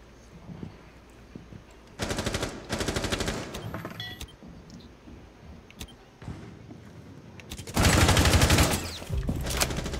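Rapid automatic gunfire in Rainbow Six Siege, several loud close bursts of fast shots separated by quieter gaps with scattered single shots and game sounds, the longest burst near the end.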